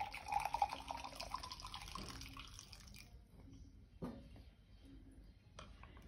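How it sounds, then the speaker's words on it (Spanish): Hot water poured over a squashed ball, a soft splashing pour that fades after a few seconds, followed by faint drips and small knocks in a quiet room. "le echamos agua caliente"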